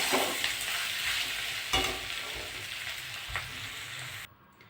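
Vegetable fritters of potato, beet, carrot and onion sizzle steadily in hot oil, a dense close crackle with stirring clinks, cutting out abruptly near the end.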